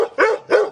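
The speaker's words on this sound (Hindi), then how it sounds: "कुत्ते दहाड़ते नहीं भौंकते" A dog gives two loud, close barks in quick succession, sharp and full-voiced, with nothing else around them.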